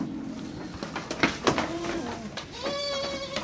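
Goats bleating from their pens as the enclosures are opened, several wavering calls near and far over general farmyard rustle and clatter.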